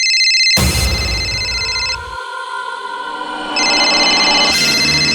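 A phone rings in a tense interrogation scene in an Indian crime drama, with a bright electronic ringtone that sounds in two bursts separated by a quieter lull. No one speaks.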